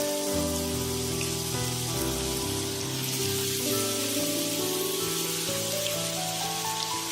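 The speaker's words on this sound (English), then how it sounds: "Let me place one by one and shallow fry them" Chicken pieces shallow frying in unsalted butter in a hot pan give a steady, dense sizzle throughout, close and even, with no talking.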